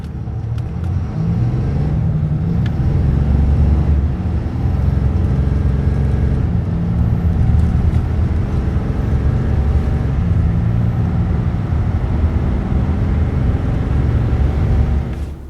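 A 2024 RAM 3500 heavy-duty pickup with a 420-horsepower engine and six-speed Aisin transmission accelerates hard from a standstill, its deep, steady engine roar and road rumble filling the cabin continuously for about fifteen seconds with no talking.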